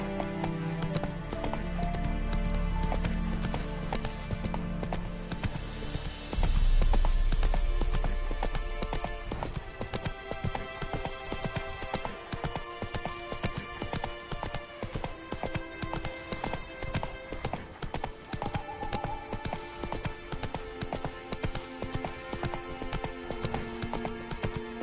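Horse hooves trotting in The Witcher 3, a steady rapid clip-clop rhythm running throughout over constant game music and ambience, with a brief louder thump early on.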